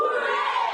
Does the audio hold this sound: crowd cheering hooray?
yes